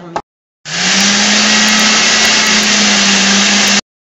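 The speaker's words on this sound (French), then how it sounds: "Graines de sésame que tu vas mixer" An electric blender grinds sesame seeds in a steady, loud, high-pitched whir lasting about three seconds, preceded by a brief burst and ending abruptly.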